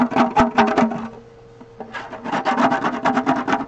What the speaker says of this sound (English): it is recommended that you use a plastic spatula to go in and scrape off those hardened chunks